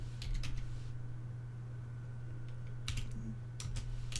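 Bursts of computer keyboard typing during a game of FTB Omnia, several quick clusters of keystrokes over a steady low hum, close and clear.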